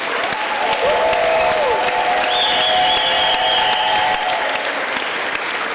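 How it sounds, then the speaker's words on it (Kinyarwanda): A church congregation breaks into loud, sustained applause, and high, wavering ululation rings out above the clapping. "nimuyikomera amashyi muyivugirize impundu nyinshi cyane"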